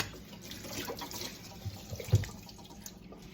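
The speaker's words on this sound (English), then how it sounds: "I'm just gonna have to wash this off." A dough cutter is rinsed under a running kitchen tap, a steady close splash of water with brief clinks against the metal blade, no talk.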